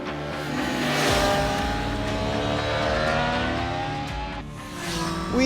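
A 2023 Triumph Street Triple RS motorcycle revs hard around the Jerez racetrack, its engine climbing and falling through gears in a loud, continuous howl close by.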